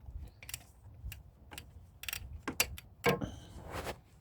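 Half-inch wrench working the serpentine belt tensioner on a 2012 Cadillac CTS 3.0L, giving scattered metallic clicks and ratchet ticks at close range, with no talking.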